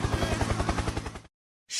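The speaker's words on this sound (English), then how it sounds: "Helicopter, helicopter." A short helicopter sound effect: rapid, evenly spaced rotor-blade chops thump for just over a second, then cut off abruptly.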